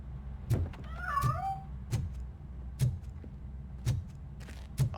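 A cat hidden inside somewhere lets out a single faint meow, while dull knocks and thumps recur at a steady pace around it.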